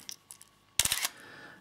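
A Nikon F4 35mm film camera fires its shutter at the end of the self-timer countdown. A few faint ticks are followed by a sharp, loud mechanical clack and whir of the shutter and mirror, recorded close up.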